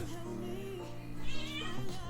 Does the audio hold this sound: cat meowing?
yes